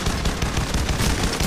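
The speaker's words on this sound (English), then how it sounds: "I'm like shooting a wall accidentally, I think" Rapid, sustained gunfire from Payday: The Heist, a dense continuous burst of shots filling the whole moment at steady loudness with no talk over it.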